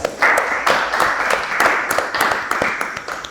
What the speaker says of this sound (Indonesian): Kita kasih aplaus dulu kelompok 3